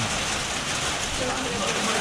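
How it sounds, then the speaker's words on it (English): Dense, steady patter of hailstones striking a surface on the Appalachian Trail, a continuous loud hiss-like clatter with no pauses. "Pretty good hailstorm."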